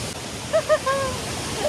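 A hidden waterfall in the Akeri jungle gives off a steady, close rushing roar, with a few brief tonal chirps over the constant water noise.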